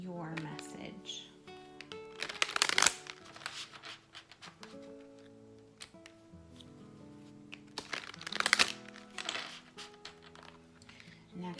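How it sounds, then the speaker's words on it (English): An oracle card deck, the Romance Angel deck, is shuffled in two quick crisp bursts of riffling cards, close and fairly faint, separated by quieter handling and soft card taps. "I'll do quick shuffle for the Romance Angel deck"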